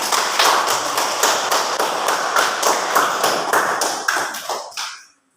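A classroom group claps in unison for the tayamum group, about a dozen crisp, rhythmic claps in steady time that stop abruptly.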